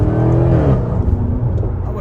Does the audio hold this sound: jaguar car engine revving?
yes